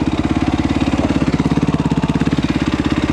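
A quad bike engine runs steadily close by, a rough, rapidly pulsing idle with a throbbing low rumble and no voices.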